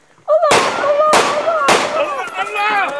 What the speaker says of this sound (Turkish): Allah çuval mermi atması lazım Atilla ya